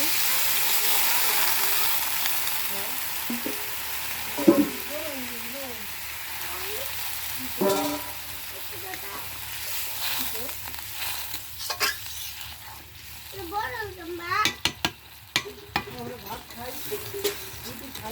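Water added to chicken kosha in a hot pan on a home stove gives a hissing sizzle that fades, with stirring scrapes and clinks, while a voice talks over it.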